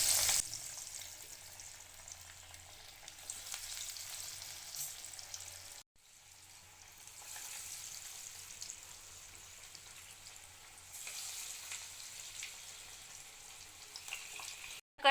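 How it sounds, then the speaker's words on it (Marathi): Dill and chana dal cutlets shallow-frying in hot oil in a kadai over a medium flame, a faint, even sizzle running throughout, briefly dropping out once. "आता आपण सर्व कटलेट फ्राय करून घेऊया."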